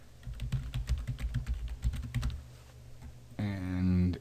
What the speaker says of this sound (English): we're just going to type a URL in here